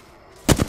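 A short close burst of gunfire in the video game Apex Legends, two quick sharp shots.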